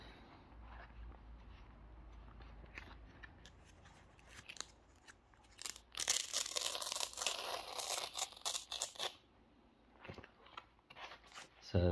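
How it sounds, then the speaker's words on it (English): Old ROM comic books, stored untouched for over twenty years, being opened as their pages peel apart: quiet rustling builds into a louder burst of papery peeling and crinkling, close by, then fades before a final sharp rustle. "you just got that peeling sound"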